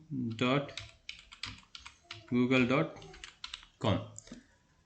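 Quick clicks of a computer keyboard being typed on, close up, mixed with a person speaking over them.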